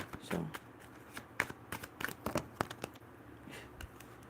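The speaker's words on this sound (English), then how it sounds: "I was trying to get a good shuffle in" Tarot cards being shuffled by hand make a quick series of close, crisp riffles and flicks, uneven in rhythm and fairly quiet, with no talking.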